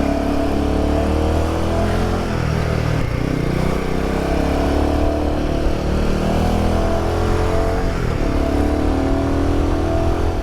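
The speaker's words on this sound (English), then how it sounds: "I really hope you can hear the exhaust of this bike." A Himalayan 450 motorcycle with a custom exhaust rides along mountain twisties, its engine droning loud and steady up close as revs rise and fall with gear changes, throaty and continuous.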